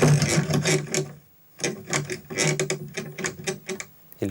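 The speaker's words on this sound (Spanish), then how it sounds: "los crujidos de la caja" Foley creaking of a box for an animated film, a series of close clicking, ratcheting creaks in irregular bursts with a brief pause in the middle, no talk.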